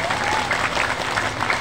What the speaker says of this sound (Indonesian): Oh ya, tepuk tangan dulu nggak apa-apa.